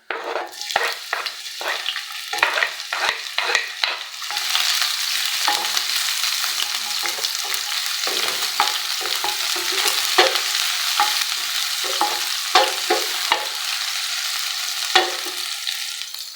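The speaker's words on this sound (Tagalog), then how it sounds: "painit tayo ng mantika. Ilagay ang sibuyas bawang." Onion and garlic fry in hot oil, a dense, steady sizzle right up close, with a rapid run of spatula clanks and scrapes at the start and occasional stirring taps after, no voices.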